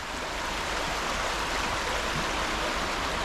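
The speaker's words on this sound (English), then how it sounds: "get across this beautiful flowing river" A river flows steadily near a woodland campsite, a continuous broadband rush of moving water with no pauses, fairly close and even in level throughout.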